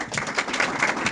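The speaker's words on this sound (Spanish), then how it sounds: "Un aplauso," Audience at a philosophy conference session clapping briefly, a short burst of moderately loud, uneven hand claps in a room.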